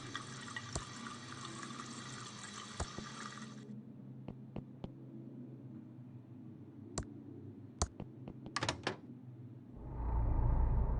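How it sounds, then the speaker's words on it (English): Water trickles and pours from a glass in the point-and-click adventure Thimbleweed Park, a soft steady stream with scattered sharp clicks and drips, ending in a louder gush of liquid. "It's pouring out water."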